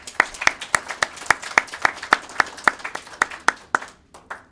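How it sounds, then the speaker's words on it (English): Scattered clapping from a small audience at a UPS graduation ceremony; about twenty sharp, distinct claps in an uneven rhythm, thinning out at the end, close and moderately loud. "I think you guys owe yourself a big round of applause."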